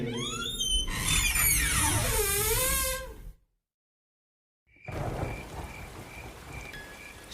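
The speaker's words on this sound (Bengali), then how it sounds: "শ্রাবণ মাসের ঝমঝমে বৃষ্টি" Heavy monsoon downpour with a dense, steady hiss of rain, first overlaid by swooping tonal effects, then a brief total silence before the rain returns with faint, evenly spaced beeps.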